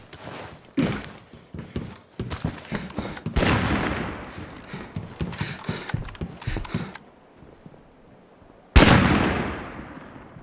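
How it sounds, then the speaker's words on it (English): Muffled suppressed gunshots crack in State of Decay 2 as a series of sharp, closely spaced thumps of varying loudness, followed after a pause by one louder, close shot that trails off. "I heard a sad suppressed sound. And I'm trying to remember what gun sounds like that"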